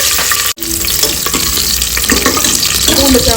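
Curry leaves and garlic hit hot oil in a pan while tempering for sambar, giving a loud, steady crackling sizzle with a brief sharp break early on and stirring noises throughout.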